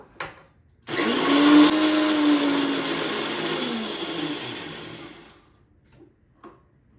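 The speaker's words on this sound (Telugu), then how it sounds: "కొన్ని వాటర్ పోసి మిక్సీ పడుతున్నా" A mixer grinder whirs loudly for about four seconds blending peanut chutney with water, starting abruptly and winding down, with brief clatter before and after and no speech.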